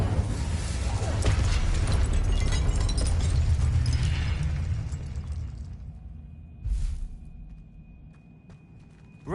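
Fire spell blasts erupt in the Hogwarts Legacy video game, a dense roaring burst of explosive rumble and crackle fading off, then a brief second whoosh and a softer tail.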